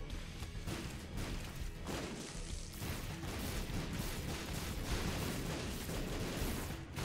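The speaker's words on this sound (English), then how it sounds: "The explosions are too much." Explosions in a video game come as a continuous barrage of loud, overlapping blasts and crashes, dense and unbroken, with no voices.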